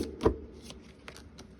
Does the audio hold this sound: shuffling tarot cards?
yes